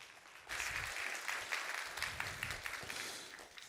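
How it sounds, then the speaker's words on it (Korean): A church congregation welcomes a visiting pastor at a Korean Sunday service with warm applause, a dense, even wash of many hands clapping that starts abruptly and carries on steadily at a moderate, slightly distant level. "우리 따뜻한 박수로 우리 목사님을 환영하도록 하겠습니다."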